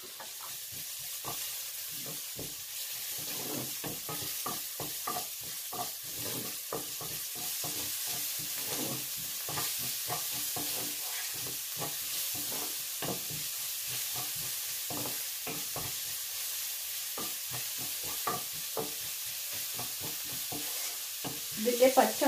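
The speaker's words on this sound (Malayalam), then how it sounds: "ഇതിൻ്റെ പച്ച മണം മാറുന്നത് വരെ നമുക്കൊന്ന് ഇളക്കി കൊടുക്കാം" Crushed ginger and garlic sizzle steadily in a hot pan for a mackerel fish curry as a spoon stirs through them, with continuous frying hiss and repeated scraping strokes, close and alone throughout.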